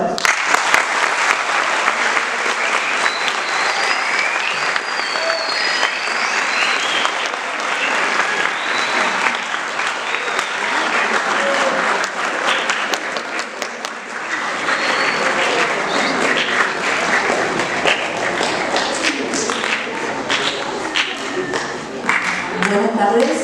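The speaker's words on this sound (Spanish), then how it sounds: "Un fuerte aplauso." Sustained audience applause fills a university lecture hall before a talk, loud, dense clapping from many hands that holds steady for over twenty seconds.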